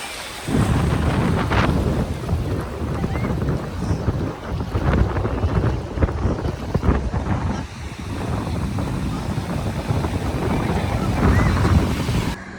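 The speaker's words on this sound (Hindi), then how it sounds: "बहुत वेव्स थी" Sea waves rolling onto a beach at Dapoli roar steadily and loudly with heavy wind buffeting the microphone, a continuous dense wash of surf close by with no clear voices.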